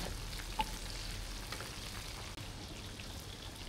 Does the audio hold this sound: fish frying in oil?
yes